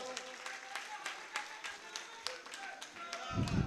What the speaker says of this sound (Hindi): भरपूर क्लैपिंग तालियां जिस इस्तकबाल करो।